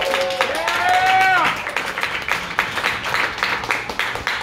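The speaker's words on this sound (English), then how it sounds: "the crowd started clapping." A concert crowd breaks into clapping, loud and close, following a sung or tonal voice at the start, with uneven hand claps and crowd noise continuing to the end.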